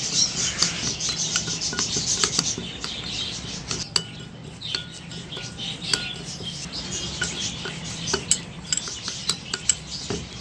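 A walnut shell face mixture is stirred in a bowl, giving soft repeated scraping and light clinks of a utensil against the bowl, with faint birdsong in the background.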